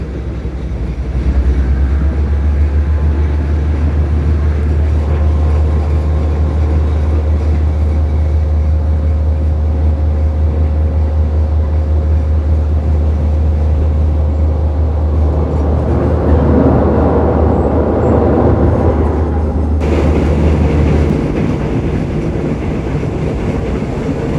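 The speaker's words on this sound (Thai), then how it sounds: "รถไฟก็กำลังชะลออีกครั้งหนึ่งนะเข้าสู่ที่หยุดรถบางกระเจ้า" A Maeklong line train slows into the Bang Krachao stop, its steady rumble and low hum heard from on board, the tone shifting and thinning toward the end as the engine drone cuts off, with no voices.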